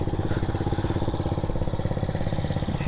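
An Icebear Maddog Gen 5 scooter idles through its performance exhaust, a steady rapid putter with a throbbing beat, loud and close with no voices.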